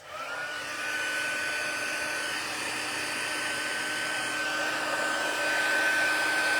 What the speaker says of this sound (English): I'm going to heat up the heat tool here.